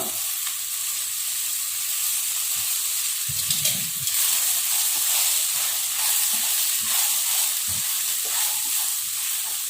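Raw banana slices sauté in hot oil in a pan, giving a steady close sizzle and frying hiss throughout, with a few soft stirring knocks and scrapes.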